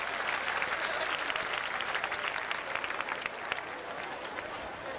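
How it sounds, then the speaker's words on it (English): Sustained applause from a large audience at a School of the Americas gathering, dense steady clapping that holds at an even level for several seconds with faint crowd murmur. "If we could give some good applause for those folks"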